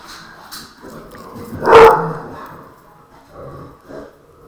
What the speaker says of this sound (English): dog is going nuts.